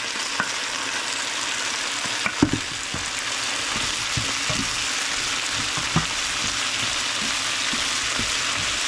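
Shiitake mushrooms and shrimp juice sizzle and fry steadily in a pan for a shrimp pad thai with bok choy, with a faint stir and scattered light taps of a utensil.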